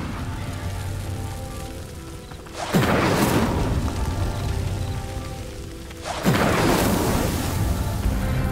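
Incendio fire spell cast twice in Hogwarts Legacy, each a sudden loud whooshing burst that swells into a crackling roar and slowly dies away, heard over a steady game ambience with no talk.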